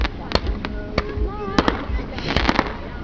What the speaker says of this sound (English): No, fireworks don't go near as high as a plane.